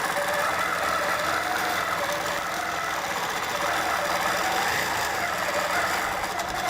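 A sewing machine runs steadily along fabric strips, a continuous close mechanical hum with a fast rattling vibration and no pauses.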